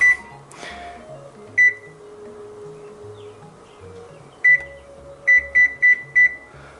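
An oven's control panel gives short, sharp electronic beeps while timed bake is set, one early, another on its own, then a quick run of four evenly spaced beeps, over a low room hum.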